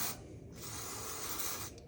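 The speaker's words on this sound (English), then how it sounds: "I have some PTFE spray here. It's like a silicone spray, so I'm just going to give them a little spray" PTFE silicone spray misted onto the bead of a motocross front tyre during a tyre change at home, giving a steady close hiss that runs nearly two seconds, briefly dipping and then swelling again.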